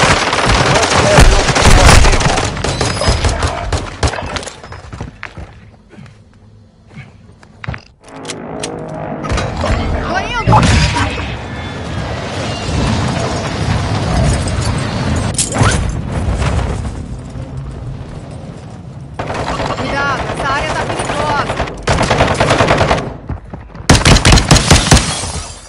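Sustained gunfire in a Call of Duty match, loud rapid bursts and explosions rolling on and off across the whole stretch, with brief quieter gaps between exchanges.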